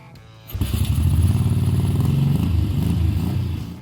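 A Ducati 750 Sport motorcycle engine bursts to life and runs loud and close, a throbbing, uneven idle that holds for a few seconds before easing slightly.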